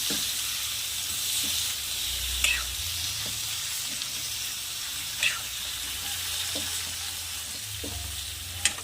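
Potato and eggplant curry being mixed in a pan, a steady close sizzle under repeated spoon scrapes and a few sharp clinks against the metal, continuous and moderately loud with no talking.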